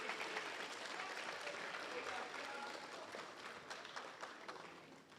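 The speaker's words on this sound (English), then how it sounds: "You can clap now." Steady applause from students at a seventh-grade school awards ceremony, a dense, even patter of many hands that holds at a moderate level, then fades slightly toward the end.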